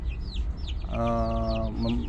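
Chickens cluck and chatter close by at feeding time on cassava, with one drawn-out call in the middle amid a busy farmyard flock, and a voice faintly under the birds.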